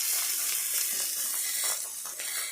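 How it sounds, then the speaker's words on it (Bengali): Hilsa fish frying in a pan, a continuous close hissing sizzle with slight fluctuations, no voices. "উল্টিয়ে ভাজবেন।"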